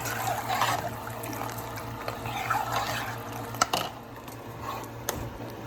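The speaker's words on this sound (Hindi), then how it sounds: "मैंने देखिए ये गैलन है तो मैं अपने हिसाब से डाल रही हूँ" Milk poured from a gallon jug into a pot of rice, a gurgling liquid trickle with soft splashes and a few clunks, fairly close, easing off toward the end.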